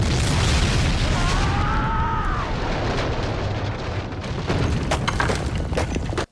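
Missile explosion in a low-budget zombie film, a loud, sustained rumbling boom that fills the whole clip with dense crackling debris, a brief whistling tone partway through and sharp pops near the end.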